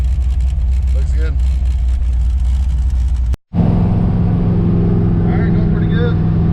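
An LS-swapped Ford Mustang driving, its engine a loud steady drone that cuts out briefly mid-run and then returns, heard from inside with a voice talking over it.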